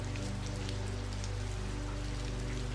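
Rain patters steadily on a glass window in a soft, even, continuous wash, close and gentle with no voices.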